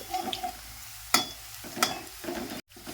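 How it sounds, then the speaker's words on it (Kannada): Onions fry in oil for chicken biryani, a soft, steady sizzle broken by a few sharp clinks of a utensil on the pan and a brief cut near the end. "ಉಳ್ಳಾಗಡ್ಡಿ ಅಲ್ಲಿ ತನಕ ಫ್ರೈ ಮಾಡ್ಕೊಬೇಕು ರೀ"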